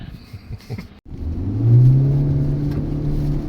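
A 2026 Toyota Hilux engine revs hard while the truck spins donuts, swelling into a loud, sustained roar after a short drop and holding steady to the end.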